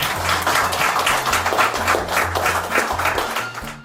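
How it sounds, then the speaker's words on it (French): Audience applause at a gallery window opening in Virton, Belgium: sustained, dense clapping from a crowd, steady and loud throughout before thinning slightly at the end. "Encore une fois, un applaudissement."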